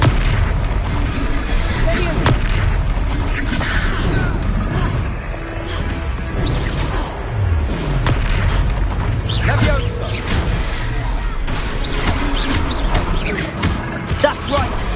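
Confringo fire-blast spell in a Hogwarts wizarding video game: booming explosive bursts and crashing impacts repeat through a busy battle, with voices shouting over the action.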